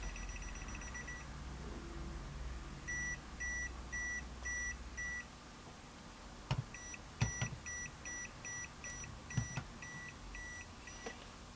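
A Redfish iDVM550 clamp meter beeps in continuity mode: a short series of evenly spaced beeps, then faster, quicker beeping, close by, with a few clicks and handling noises.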